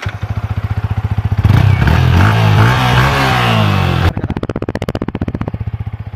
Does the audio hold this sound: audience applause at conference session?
no